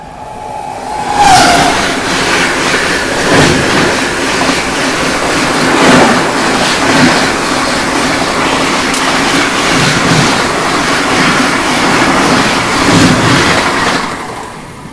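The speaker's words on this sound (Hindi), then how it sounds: "ये आ गई डिब्रूगढ़ राजधानी एक्सप्रेस।" The Dibrugarh Rajdhani Express rushes past on the adjacent line, a loud, close, continuous roar of rolling wagons with rhythmic clickety-clack over rail joints and a brief horn-like tone at the start.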